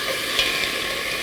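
Food stir-fried in a pan with perilla oil gives a steady, close sizzle and rustle of stirring, even and unbroken throughout, with no voices.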